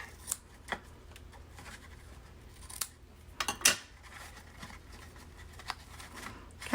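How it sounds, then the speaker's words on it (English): Scissors snip around the edges of a paper pop-up card, a few quiet, scattered cuts with small rustles of paper between them. "And then we'll trim off the edges."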